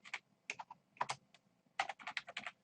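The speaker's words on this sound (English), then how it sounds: "I'm just typing things to give examples of what happens." Bursts of computer keyboard typing, close and fairly quiet, with quick clustered keystrokes separated by short pauses and a longer flurry near the end.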